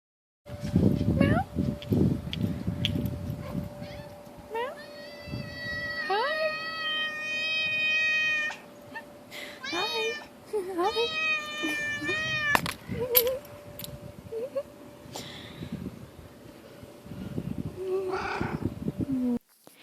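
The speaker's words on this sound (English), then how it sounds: "This cat has a really long meow." A cat gives a drawn-out meow, harmonic and wavering, in several long stretches over a steady background hum, with other noises and voices in between.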